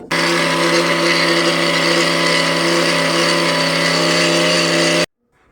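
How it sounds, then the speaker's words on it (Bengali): An electric mixer grinder runs steadily at full speed, grinding ingredients for malpua with a loud, constant whirring motor drone that cuts off abruptly near the end. "আমি মিক্সারে এখন বেটে নিচ্ছি"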